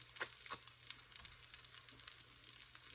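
Potato cakes brown in a pan with a soft, quiet sizzle and scattered small crackles and pops, without any talk.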